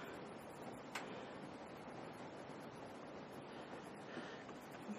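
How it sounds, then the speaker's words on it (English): Heavy rain pours steadily outside, a dense, continuous hiss that holds at a moderate, even level throughout with no voices. "Oh, it's pouring again. I can hear that rain."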